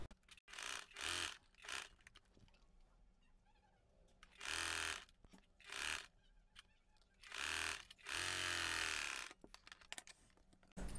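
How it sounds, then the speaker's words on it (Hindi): A sewing machine stitches the neckline of a child's frock in short, loud bursts of rapid mechanical whirring, several brief runs separated by pauses and ending with one longer run. "अब हम ये नेक लाइन पे सिलाई लगाएंगे।"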